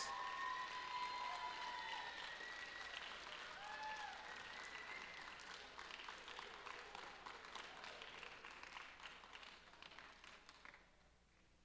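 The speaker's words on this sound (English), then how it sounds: "Let's get one last round of applause for your finalist alliance." Sustained applause from a crowd at a Bridge Creek League robotics-style alliance tournament, honoring the finalist alliance; dense clapping with a few whistles and cheers, steady then thinning toward the end.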